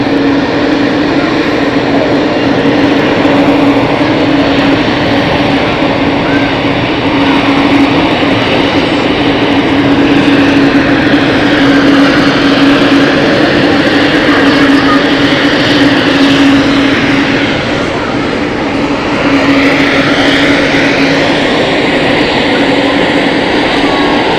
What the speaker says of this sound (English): Another A340's lined up.